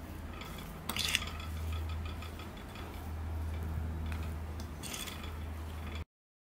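A spoon stirs snack ingredients in a bowl, soft scraping and rhythmic light clinks close by with a couple of sharper taps against the bowl, under a low steady background hum.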